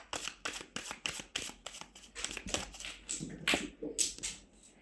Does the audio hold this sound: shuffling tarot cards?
yes